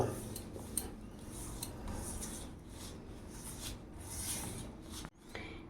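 Fish pakora pieces being mixed with ginger-garlic paste in a bowl, a steady close scraping and rubbing of a spoon against the dish, with a few light clinks.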